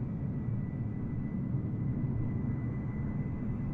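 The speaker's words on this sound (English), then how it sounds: "I can hear engines, I just can't see his plane." Airliner engines at Ayers Rock airport in Microsoft Flight Simulator 2020 give a steady low rumble with a faint high whine, continuous and moderately loud, with no voices.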